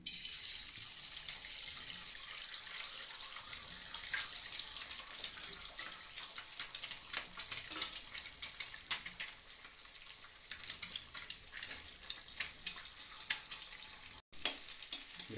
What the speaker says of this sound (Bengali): প্রথমে আমরা ডিম ভেজে নিলাম ডিমটাকে ফাটিয়ে ভেজে নিচ্ছি